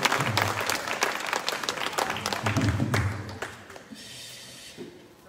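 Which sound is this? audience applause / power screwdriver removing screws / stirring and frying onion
audience applause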